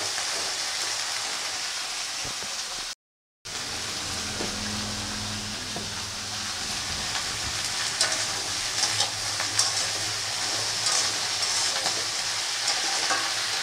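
Food sizzles steadily in a hot pan on a home stove, a constant crackling hiss with occasional stirring scrapes and clatter, no voices present.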